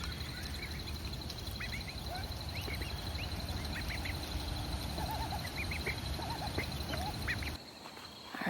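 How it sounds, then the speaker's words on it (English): Ducks quack faintly in scattered short calls over a steady outdoor hum on a winter morning, with no talking, until the background drops away near the end. "I just thought we'd say good morning to the duckies"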